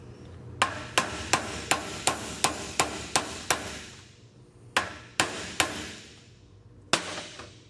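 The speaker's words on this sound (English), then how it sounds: "as I drive this down, I'm squishing the cross piece and it's going to finish driving that other cap all the way down." Sharp, loud hammer blows drive a U-joint bearing cap into a double cardan joint on a 1996 Toyota 4Runner: a steady run of about eleven metallic strikes, a short pause, then three more and a final single hit, with no talk.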